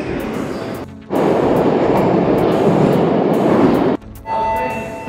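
A Moscow Metro train in motion: a loud, steady, close rumbling roar that holds for about three seconds, drops out briefly, then surges back in.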